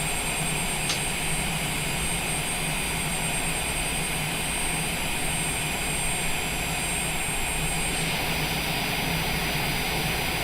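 A Cessna Longitude business jet's engines run in Microsoft Flight Simulator 2020, a steady whining roar with a constant high tone that holds without a break, with no talking.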